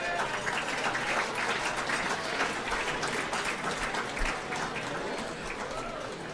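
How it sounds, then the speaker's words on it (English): Sustained applause fills a room at a football club's medal night, a dense, steady clatter of many hands for over six seconds with a faint crowd murmur beneath. "can we give a huge round of applause for the outstandingly well-dressed ladies"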